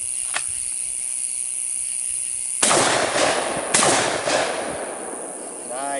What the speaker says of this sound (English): Fire a few more rounds.